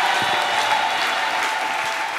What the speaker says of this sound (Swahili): Ongeza makofi na vigelegele kwa ajili ya Bwana Yesu.